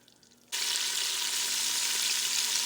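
Cube steak frying in a pressure cooker on raised heat, a loud, steady broadband sizzle that bursts in abruptly after a quiet half-second and holds evenly to the end, with no talk.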